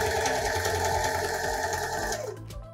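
A sewing machine stitches a t-shirt collar in a fast, continuous whirring run that slows and stops near the end, loud and close with no voices.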